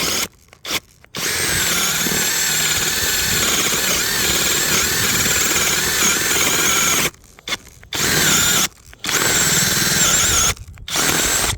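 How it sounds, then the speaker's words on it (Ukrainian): A cordless mini drill-driver bores into dry acacia wood posts, whining loudly and steadily in long bursts. The motor stops in several short breaks before it restarts, and no one speaks. "Думаю, просвердю трохи попробую."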